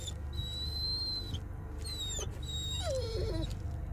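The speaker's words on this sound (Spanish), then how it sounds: "Así llora mi pastor." A shepherd dog in the Blair Witch video game whimpers in thin, high, wavering whines, several drawn-out cries over a steady low background hum.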